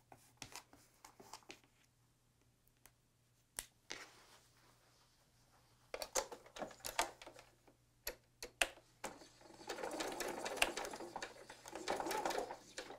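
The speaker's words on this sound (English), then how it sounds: "Let's take this to the sewing machine." Home sewing machine stitching a quarter-inch seam on a beginner quilt block, heard as bursts of rapid mechanical needle clatter that come in short runs with quiet pauses between them, then a longer steady run near the end.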